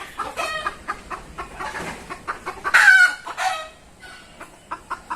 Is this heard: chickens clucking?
yes